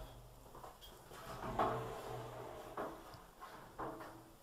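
Sliding glass doors of a hotel bathroom shower at a Home2 Suites in Baton Rouge glide along their track, giving a few soft rumbling slides and light knocks in a quiet room.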